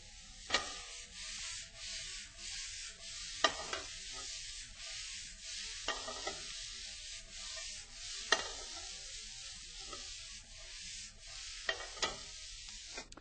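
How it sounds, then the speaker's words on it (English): Rice being tossed together with seared lemongrass tofu in a frying pan, giving a steady sizzle with scraping stir strokes and periodic sharp clinks of a utensil against the pan, close up and without speech. "I'm going to introduce the rice to this pan and toss it all together."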